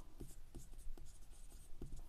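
A pen writing a number on paper for a class 7 math problem, a run of quick, close scratchy strokes in an irregular rhythm, quiet and alone.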